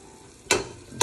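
Ginger hitting a hot pan for an Ethiopian dinner gives two short, loud bursts of sizzling and stirring about half a second apart, over a quiet background hiss.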